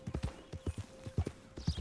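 Horse hooves clip-clop at a steady walking rhythm in Red Dead Redemption 2, a run of even, hollow knocks at moderate loudness with a faint steady hum underneath.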